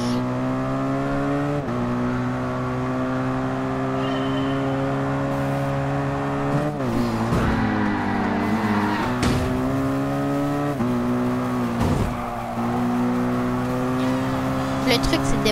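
Race cars in Gran Turismo 5 drone steadily at high revs, engine pitch rising and dipping through gear shifts and impacts, loud and continuous with occasional talk over it.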